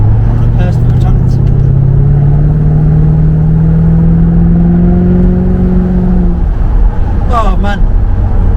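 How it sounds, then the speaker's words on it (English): Supercharged engine of a 1998 Jaguar XKR X100 convertible revving and whining upward in pitch, loud and close, then easing off, with brief voices at the start and end. "I absolutely love the sound of that supercharger."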